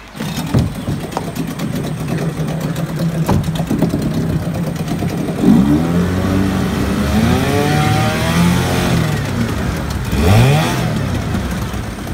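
A Yamaha-built Mariner 8 HP long-shaft outboard motor starts up and runs, its engine note rising and falling through several revs, loud and close with no talk.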